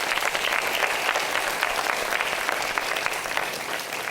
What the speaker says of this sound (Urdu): میں چاہوں گا ان کے لیے پرزور تالیاں ہونی چاہیے